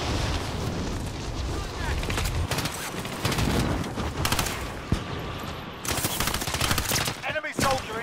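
Rapid automatic gunfire bursts from a Call of Duty: Modern Warfare match, loud and close, with dense rattling volleys and a few heavier booms, while voices call out between the shots.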